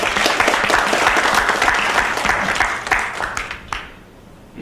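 An audience at a political and economic outlook forum claps together, a dense burst of applause that stays loud and then fades out toward the end.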